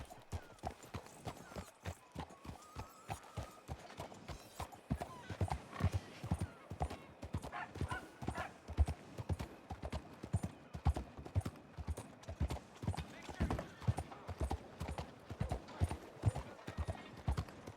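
Horse hooves clip-clop in a steady, close rhythm in Red Dead Redemption 2, with a whinny and a voice over the trotting.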